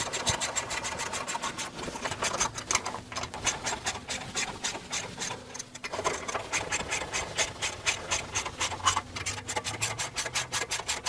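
Hand-tightening bolts on an aFe Power Pro Series rear differential cover with a ratchet, producing a close, steady run of rapid clicking strokes throughout with short pauses, no talking.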